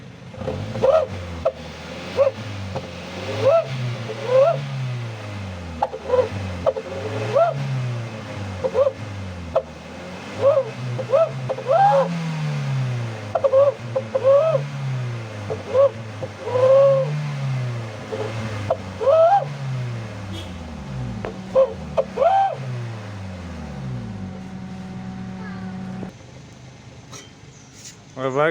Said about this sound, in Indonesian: itu suara knalpotnya